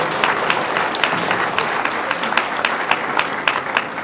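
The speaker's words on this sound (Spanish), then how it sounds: "Todo lo que me hiciste decir para arrancarte un aplauso" An audience at a political event in Puebla breaks into applause, a steady wash of clapping from many hands that keeps going throughout without talk over it.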